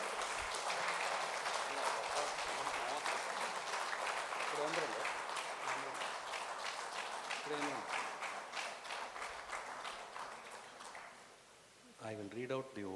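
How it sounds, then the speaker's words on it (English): Audience at a chapter launch event clapping for the newly named managing committee, a long sustained burst of dense applause that thins and fades before a voice resumes speaking at the end. "Let's all give a big round of applause to the managing committee of Agraharam chapter."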